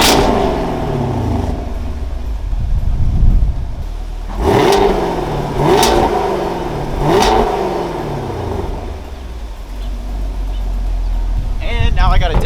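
Car fitted with a Valvetronic Designs exhaust with valves open and closed, revved three times in a row with sharp rising blips that fall back to a low idle rumble, loud and close.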